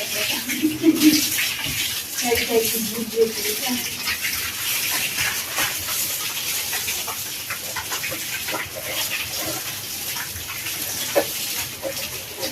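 Running water steadily pours and splashes as household storage containers are filled for a week's supply, a continuous rushing hiss with faint voices and knocks in the background.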